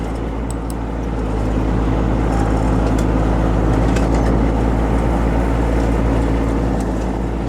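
A John Deere ride-on mower runs continuously with a steady, low engine drone, close and unchanging over several seconds, with no voices.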